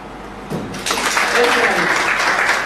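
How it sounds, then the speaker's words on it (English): An audience at a civil society event breaks into applause, starting with a few claps and then swelling into steady, full clapping from many hands that carries on to the end. "Let's give a round of applause for the strong prayers."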